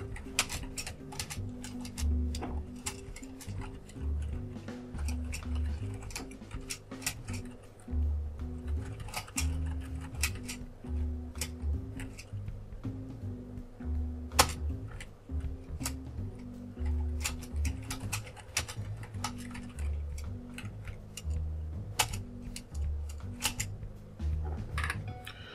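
Code being typed on a computer keyboard, a long stretch of quiet, rapid key clicks in uneven bursts with brief pauses in between, set against a soft background hum.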